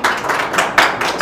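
A few quick rounds of clapping break out for a Romanian national football team player, a brief burst of several distinct hand claps at close range with no voices.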